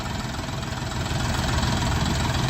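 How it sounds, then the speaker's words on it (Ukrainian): A steady, loud engine runs throughout with a low rumbling drone and constant texture, like a Lovol 244 tractor idling close by. "Тракторець, тракторець їде"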